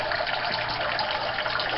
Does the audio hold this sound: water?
yes